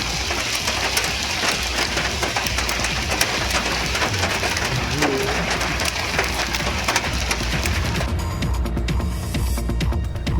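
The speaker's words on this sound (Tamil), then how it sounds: "திடீரென பெய்த ஆலங்கட்டி மழையால் சாலைகள் வெள்ளை போர்வை போர்த்தியது போல்" Sudden hailstorm in Dharwad district, Karnataka: dense, steady drumming of hail and rain on surfaces fills the scene, loud and continuous with no voices.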